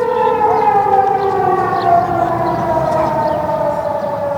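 A civil defense siren sounds during a test, a loud sustained wailing tone that slowly falls in pitch, steady and alone with no talk.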